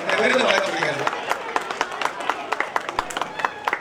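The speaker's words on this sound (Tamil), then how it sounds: "அவரை நல்லா கைதட்டுங்க" Scattered hand clapping for an award recipient at a Tamil New Year festival at Thoranamalai Sri Murugan temple, following a voice on a loudspeaker, with sharp claps that grow more frequent.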